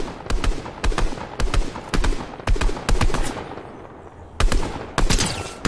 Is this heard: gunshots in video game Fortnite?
yes